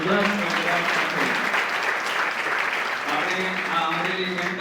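Sustained applause from a seminar audience honouring a guest on stage at an educational event, steady and dense throughout, with faint voices mixed in beneath the clapping.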